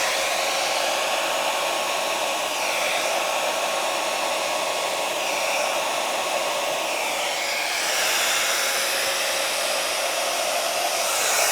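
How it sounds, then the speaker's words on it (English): An air blower pushes paint across a canvas, making a loud, steady whooshing hiss that stays constant throughout with slight shifts in pitch, heard alone without talk. "I'm just blowing the paint so that it goes off the canvas itself."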